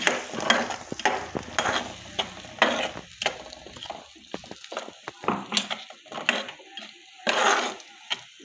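Ground white mustard, cashew and melon seed paste fries in a pan for a fish dish, with steady sizzling broken by repeated scraping stirs at close range.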